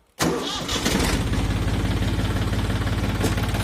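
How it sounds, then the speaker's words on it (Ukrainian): A Foton 250 tractor's engine cranks and catches almost at once, then settles into a steady, loud, close idle with an even rhythmic pulse and no talking. "Нажали щеплення і заводимо"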